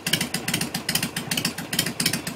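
A Harley bobber project motorcycle engine revs in quick throttle blips, a lumpy pulsing rhythm of repeated loud bursts close by, with no talk.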